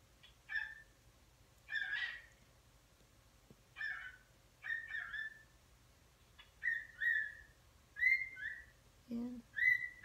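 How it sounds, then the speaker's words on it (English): A pet bird whistles in short, clear phrases at intervals, fairly faint against a quiet room, with a few chirpy bursts and brief pauses between them. "Yeah, I hear my bird."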